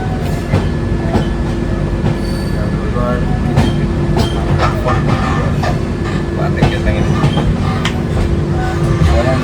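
Steady rumbling and rhythmic clatter of a slow passenger train in motion in Kerala, heard up close from onboard, with faint voices in the background.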